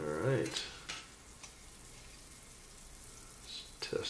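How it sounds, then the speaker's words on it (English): Pork breakfast sausage fries in a cast iron skillet, a soft steady sizzle close by with a few brief clinks and stirring sounds, no talking. "So, you can see that sausage. It's frying up nicely."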